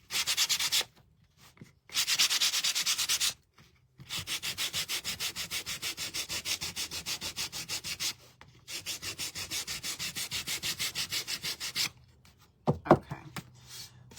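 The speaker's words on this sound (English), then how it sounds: "I'm just going to get a piece of sandpaper." Sandpaper rubbed by hand over a wooden bee figure, steady rhythmic scraping strokes close up, coming in several bursts of repeated back-and-forth passes with short pauses between them and no talking.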